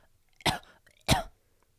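Two short, sharp coughs from a voice mimicking a cough, spaced about half a second apart, close and fairly quiet.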